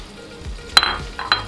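Flour hits melted butter in a pot over medium heat for a béchamel, giving a few quick bursts of sizzle and crackle with short gaps between them, close and moderately loud.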